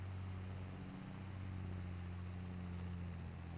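A tractor engine in Farming Simulator 22 drones with a steady, low, even hum for the whole stretch, heard from the cab with no talk over it.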